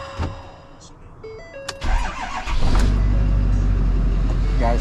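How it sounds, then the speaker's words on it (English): A 2012-2016 Ford F-450 cab chassis truck cranks briefly and its engine catches, settling into a loud, steady low idle rumble close by. "Now we're going to start the truck up"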